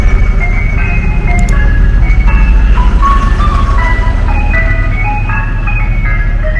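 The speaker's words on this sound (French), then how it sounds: "c'est un marchand de glace" An ice cream truck on a Sydney street plays its tinkling chime melody loudly and close, over a steady engine rumble that runs the whole time.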